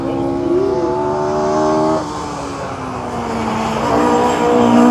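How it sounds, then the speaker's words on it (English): Drift cars at Pembrey Circuit pass on track, their engines droning with pitch rising and falling and shifting abruptly as they rev and change gear, moderately close and fairly loud throughout. "Here come the drift cars again."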